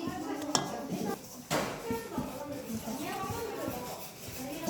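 Chocolate chip cookie dough is worked in a bowl with crosswise strokes, giving soft scraping and knocking against the bowl under a steady voice.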